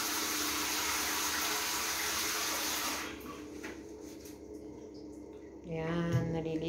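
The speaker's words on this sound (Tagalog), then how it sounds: "Patayin mo naman sana yung tubig" Tap water gushes steadily into a bath for about three seconds, then drops to a quieter trickle and background noise, with a faint sound at the end.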